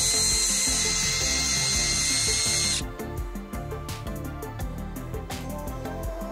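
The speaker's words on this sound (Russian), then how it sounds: "А вот шуруповерт Лонгун. На первой скорости он без проблем докрутил предыдущий саморез," A Longun cordless screwdriver drives a screw at first speed, a loud whining motor that cuts out partway, followed by irregular clicking ratchet-like bursts.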